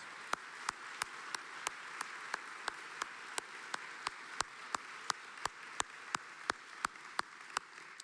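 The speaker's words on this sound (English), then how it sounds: "How about one more round of applause for all of our inductees?" Faint, distant applause from the audience at a Hall of Fame induction ceremony for inductees, a soft steady patter with sharp, evenly spaced claps close by standing out through it.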